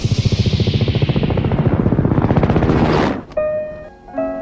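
A helicopter passes overhead with a loud, rapid, rhythmic blade chop for about three seconds, then cuts off abruptly and gives way to quieter tonal sounds.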